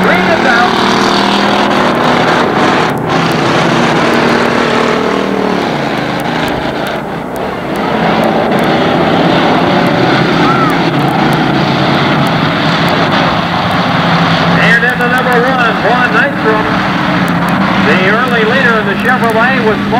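Race cars roaring around a county fair dirt raceway at the start of a heat race, engines droning steadily at a distance throughout while an announcer calls the action over the public address.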